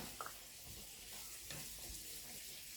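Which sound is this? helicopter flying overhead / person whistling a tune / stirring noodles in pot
stirring noodles in pot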